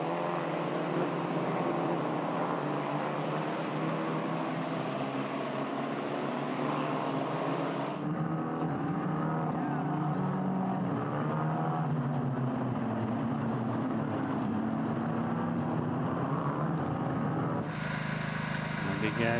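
A Formula 4 race car threads the back chicane at Motorland during race two of round one in 2023, its engine whine droning steadily and shifting pitch under continuous commentary.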